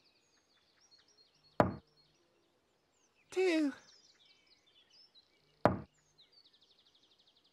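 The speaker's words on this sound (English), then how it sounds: "Tinky Winky knocked on the door." Sharp knocks on a door, two single raps spaced a few seconds apart, with a brief voice between them and faint birdsong in the background.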